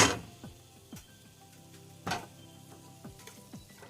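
Vegan Jamaican curry sauce with tomato paste and soy chunks cooks in a pan, a quiet sizzle under several sharp clicks and taps of a utensil stirring against the pan.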